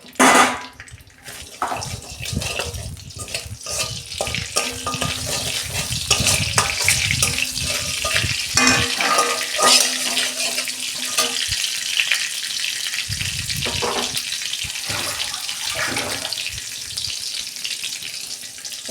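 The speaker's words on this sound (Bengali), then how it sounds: "ওই তেলেতেই আমি কালো জিরে দিচ্ছি" Nigella seeds frying in hot oil, a continuous close sizzle and crackle with scattered sharp pops and some clatter from the pan.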